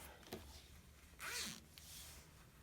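Zipper on a sewn fabric liner being pulled open in one quick, close zip, with a few faint fabric rustles before and after in a quiet room.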